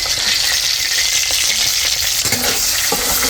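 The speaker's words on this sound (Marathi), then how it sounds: "मिरची घरची केलेली, घरचा मसाला आणि हळद एवढं परतून घेते" Homemade chili, masala and turmeric sautéing in a pan give a steady, close sizzle with a few stirring scrapes partway through.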